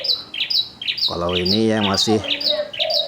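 Caged doves, turtle doves and zebra doves, set out in the evening sun, give repeated chirping calls and one rolling coo, with someone speaking briefly alongside.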